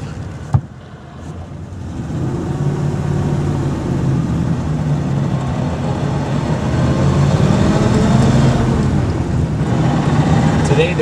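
A 1934 Ford Deluxe Fordor engine idling steadily, a loud, low continuous rumble that holds even and swells slightly toward the end, with no speech.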